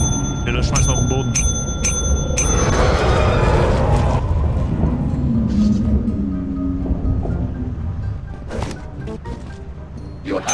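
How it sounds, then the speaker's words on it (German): A bell rings in the co-op horror game Lethal Company, its bright sustained tones standing out early, then fading into busy game noise while people talk throughout. "Du hast den Verkäufer verärgert mit deiner Klingel."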